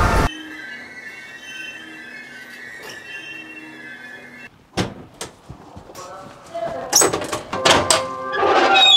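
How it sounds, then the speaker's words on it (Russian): A train pulls into a station platform in Rostov: a steady metallic whine and hum of wheels and brakes, then clunks, door thuds and rising clatter as it settles, with faint voices in the background. "Ростов прибыл на второй путь платформе номер 2."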